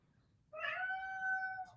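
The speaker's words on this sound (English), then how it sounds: "And my cat agrees." A house cat gives a single drawn-out, tonal meow lasting about a second, heard close and clear against a quiet room.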